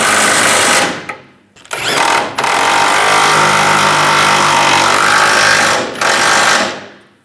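Power tool driving the nuts down on a center bumper step pad of a 2007-2013 Chevrolet Silverado 1500: loud, rattling hammering bursts, a short one then a longer run of about four seconds with a brief break, close and alone.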